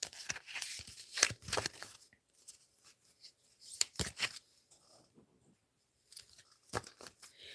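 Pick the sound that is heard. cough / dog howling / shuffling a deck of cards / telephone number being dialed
shuffling a deck of cards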